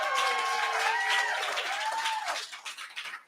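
Applause from the audience at a 50-year member celebration, clapping mixed with whooping, cheering voices, loud at first and then thinning out and fading near the end.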